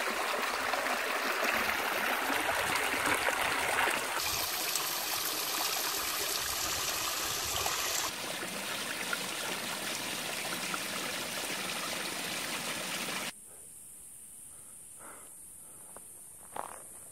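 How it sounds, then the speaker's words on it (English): Water trickles down small stone steps on a mountain trail, a steady rushing, splashing flow close by that shifts in level a few times and then drops to a quieter trickle near the end. "This water trickling down these little"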